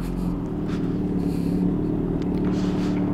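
An inline-four Benelli TNT 600i motorcycle fitted with an Austin Racing exhaust starts up and idles at a distance, a steady low rumble that holds evenly throughout with no other sounds over it.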